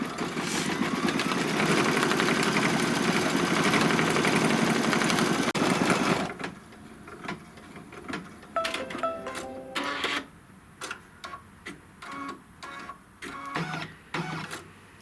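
An embroidery sewing machine stitches a holding row, first a loud continuous whirring run of needle strokes, then stopping to a series of short, separate mechanical bursts and clicks.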